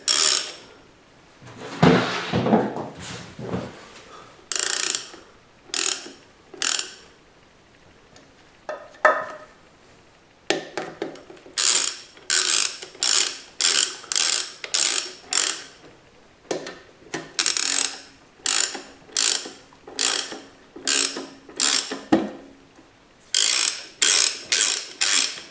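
Ratchet winding bolts down evenly during an indoor reassembly, a series of short rapid ratcheting clicks in repeated bursts with brief pauses between, close and crisp.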